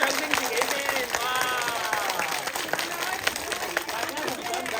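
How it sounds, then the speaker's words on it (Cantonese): A live singing show audience breaks into dense, sustained applause, with clapping and cheering voices filling the hall at a steady loud level throughout. "俾啲掌聲自己先"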